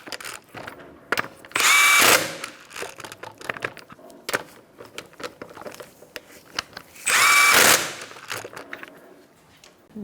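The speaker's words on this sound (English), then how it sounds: "You're going to tighten up the lug nuts in a star-like pattern." A power tool drives the wheel lug nuts tight on a 2014-2019 Kia Soul in two short, loud whirring bursts, separated by quieter rustling and clinks of work around the wheel.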